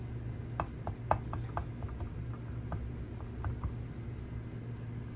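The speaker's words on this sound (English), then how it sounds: "cut the middle part of the bread out" A knife cuts the middle out of a slice of bread on a board, a run of quick, crisp taps and crunches up close over a steady low hum.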